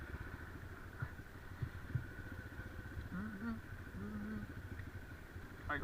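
A motorcycle engine hums and clatters steadily while riding a slippery, rain-soaked off-road forest track, with bumps and knocks from the rough ground throughout.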